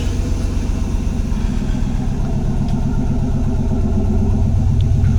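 A carbureted engine idles steadily on a cheap Chinese aftermarket carburetor, its low, even rumble with a light mechanical clatter continuous and close throughout, no voices.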